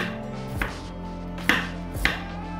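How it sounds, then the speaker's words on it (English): A knife dices unpeeled fresh organic ginger on a board, three sharp chops spaced irregularly over a quiet hum. "I'm dicing my ginger."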